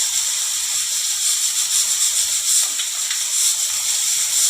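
Chopped onion sizzles in hot oil in a pan with cumin seeds and dried red chillies, a steady close hissing and crackling sizzle with no talk.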